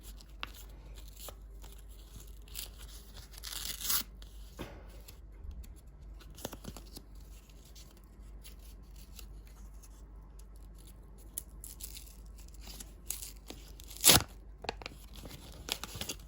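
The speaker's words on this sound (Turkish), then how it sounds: "Çünkü çok uğraştığım bir paket olmadığı için yırtıyorum" Paper surprise packets are torn open by hand at close range, with a few sharp rips among quiet crinkling and rustling of paper, and no speech.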